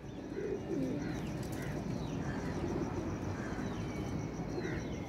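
Flying pigeons, mostly red-eyed, coo repeatedly from a loft stand, soft rolling calls recurring every second or so over a steady background hum.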